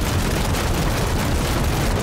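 Naval gunfire from warships and submarines in the Trailmakers video game: a dense, loud, continuous rumble of blasts and booms with no talking.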